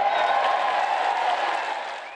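A dense crowd in a large hall applauds and cheers for Doug Mastriano, a steady wash of clapping and voices at even loudness that fades slightly at the end.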